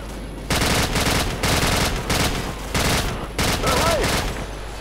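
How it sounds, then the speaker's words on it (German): Sustained bursts of automatic rifle fire in Call of Duty 4: Modern Warfare, several loud close fusillades separated by brief pauses, with a player talking faintly underneath. "Einfach eine Waffe mit viel Schuss und dann die ganze Zeit darauf ballern."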